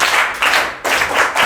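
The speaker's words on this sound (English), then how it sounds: "Can you clap for her?" A class claps for a student, a short burst of brisk hand clapping in uneven bursts, fairly close and loud, with no talk.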